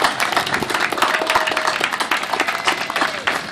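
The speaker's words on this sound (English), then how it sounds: "Let's give her a warm round of applause to thank her for her leadership." Audience applause honouring a pastor at a New York City community event, a short burst of steady crowd clapping at moderate loudness with no speech over it.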